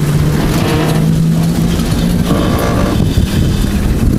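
A titanium cart loaded with about 400 kg accelerating up a slope, its motor giving a loud, close, steady drone with rising whine and rumbling wheels, no talk over it.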